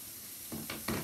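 Vegetables sizzling in a hot pan, a soft steady frying hiss broken by a few brief bursts of stirring.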